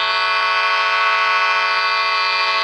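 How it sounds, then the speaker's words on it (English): A tractor's horn blares steadily and loudly, a sustained harmonic honk held without a break. "the tractor honk"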